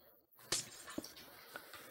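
A glass block breaking in Minecraft, a sharp bright crack near the start followed by a couple of faint clicks in a quiet scene.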